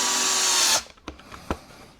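A power driver whirs for under a second while driving a screw into a Traxxas Mini XRT RC truck body, then stops, followed by a few light plastic clicks and taps.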